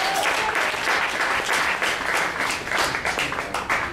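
Dense, sustained audience applause at a staff appreciation event, many hands clapping steadily at close range with no talk over it.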